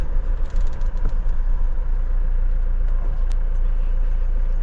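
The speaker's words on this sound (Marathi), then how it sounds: "मस्तपैकी गाडी सावलीत लावू इथं" A car's engine rumbles low and steady close by as it is parked in the shade at a roadside breakfast stop on a Pune to Bangalore road trip, with no talking.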